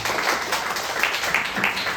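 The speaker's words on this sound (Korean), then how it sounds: "큰 박수로 맞이하겠습니다." Congregation applause at a Sunday high-school church service welcoming a returning young visitor, a steady, dense wash of clapping lasting about two seconds with no break.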